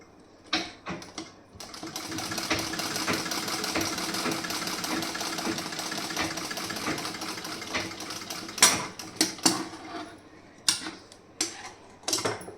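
A sewing machine stitching the shoulder seam of a garment runs in one steady, close burst of several seconds, set between short clicks and handling knocks at the start and end.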